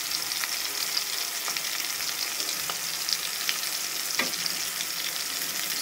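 Rohu fish fillet frying on one side in hot oil, a dense, steady sizzle with occasional sharp pops and crackles, close and loud, with no voices.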